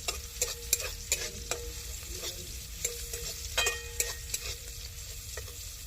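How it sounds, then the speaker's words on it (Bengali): Ginger and garlic sizzle softly in a pan while a spatula scrapes and taps now and then, a quiet steady frying sound. "আদা রসুন গুলো সব ভাজা হয়ে গিয়েছে"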